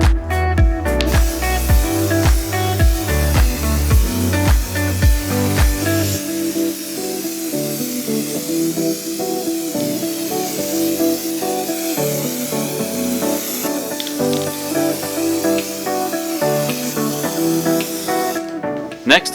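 SEM Trim Black paint sprayed from an aerosol can onto brittle BMW E28 headlight parts, giving a hissing spray under prominent background music.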